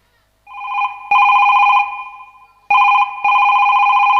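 A telephone rings in two loud, close bursts of warbling electronic trills separated by a short pause, with nothing else heard.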